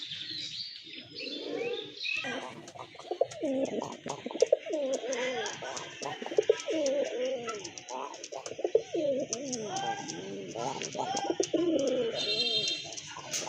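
Several white-breasted Deshi Raj Golla pigeons coo repeatedly, soft throaty warbles close by, mixed with occasional chirps and someone talking over them.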